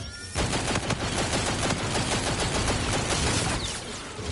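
Rapid, dense burst of gunfire from the legendary G-Rail weapon in a shooter video game, a near-continuous loud stream of shots lasting several seconds with no talking.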